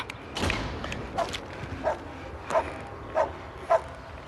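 A dog gives a series of short barks and yips at a steady pace, about six in four seconds, at moderate distance over faint background noise.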